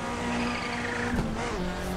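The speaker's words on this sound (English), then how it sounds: "Oh, do you hear the turbo?" Engine of a Toyota race car in the Assetto Corsa driving game on the Tokyo Shuto Expressway, a steady loud drone with a turbo whoosh and a brief shift near the middle, continuous throughout.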